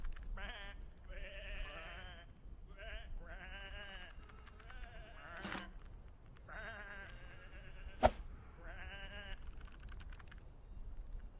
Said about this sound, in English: Come on, these are just sheep.